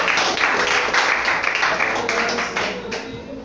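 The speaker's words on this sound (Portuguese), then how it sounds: "E eu quero convidar você a aplaudir só mais uma vez." A church congregation at an evangelical service applauding together, a steady wash of many hands clapping for a few seconds, fading slightly at the end.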